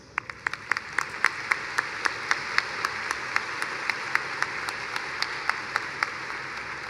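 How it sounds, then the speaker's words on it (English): A commencement ceremony audience for the Class of 2026 applauds at a moderate level. Individual sharp claps stand out clearly above a steady bed of crowd clapping. "So please join me in giving them all a round of applause."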